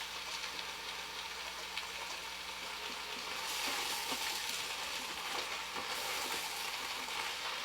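Halved cremini mushrooms sizzle steadily in an Instant Pot for beef stew, a faint, even hiss of frying with light crackles and no talking.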